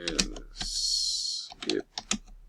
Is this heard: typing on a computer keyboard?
yes